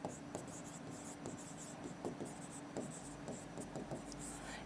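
Marker or chalk scratching on a board during a maths class, a run of short, faint strokes in a quiet room with only light speech.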